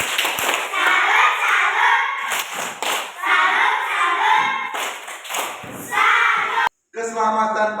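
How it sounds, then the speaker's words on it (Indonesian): Children perform a rhythmic clapped salute at a Christian children's gathering, sharp patterned claps and thumps mixed with young voices chanting along, ending with a brief pause and a final burst. "Tepuk salut."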